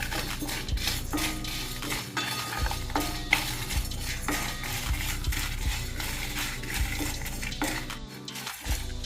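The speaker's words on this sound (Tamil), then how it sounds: "கடலைப்பருப்பு, கொத்தமல்லி, உளுந்து, வரமிளகா இதெல்லாம் நல்லா வறுத்துக்கோங்க." Chana dal, coriander seeds, urad dal and dried red chillies dry-roasted in a kadai, with a steady rattle and scrape of a spatula on metal and pulses shifting, close and continuous, with no one speaking.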